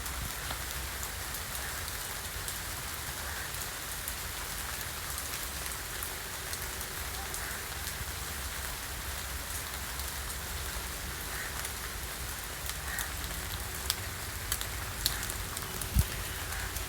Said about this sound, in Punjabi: ਤੇ ਮੀਂਹ ਦੁਬਾਰਾ ਫਿਰ ਵਸਣ ਲੱਗ ਗਿਆ